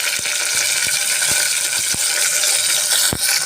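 Chopped onions and tomatoes dropped into a hot pan of oil while cooking mutton, giving a steady close sizzle and frying hiss, broken by several sharp clinks and taps from the pan and spoon.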